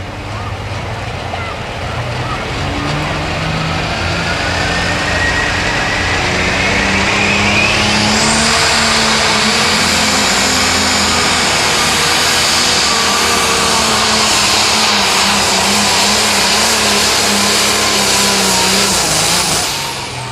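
9500 Limited Pro Stock pulling tractor at a tractor pull in Mound City, Missouri, its engine roaring loud and sustained with rising revs through the pull, while an announcer talks over it.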